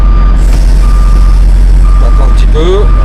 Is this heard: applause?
no